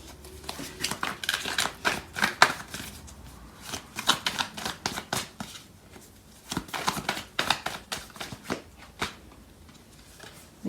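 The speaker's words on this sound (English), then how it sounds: "I'm going to pull out some more cards from this other deck." Tarot cards being drawn and shuffled from a deck, with crisp close riffling and snapping in many quick bursts separated by brief pauses, fairly soft, and no voice over it.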